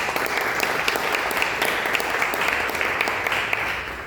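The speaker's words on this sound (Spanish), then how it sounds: "Un aplauso." Audience applause fills a university talk hall honoring Pope Francis's legacy, a steady, dense wash of clapping that holds evenly for about four seconds without a break.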